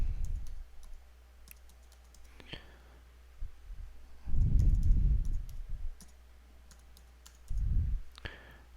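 Quick, light clicks of a computer keyboard as a password is entered, tapping irregularly at close range, with a soft murmur of low voice rising twice beneath the keystrokes.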